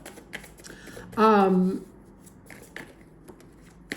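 Tarot cards riffle and patter softly under a brief stretch of talk, with light flicking and tapping sounds close by.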